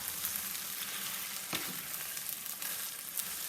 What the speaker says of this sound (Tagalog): Brown sugar is already melted. So, you need just to mix it.